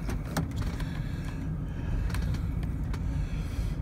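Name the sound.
old Oldsmobile car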